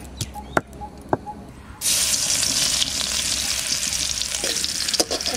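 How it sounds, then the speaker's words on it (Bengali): Garlic hits hot oil in a wok for frying Sikkim hill greens. A few sharp taps come first, then a loud, sudden sizzle that keeps crackling steadily close by. "এই শাকটা ভাজা করব, কড়াইতে তেল দিয়েছি।"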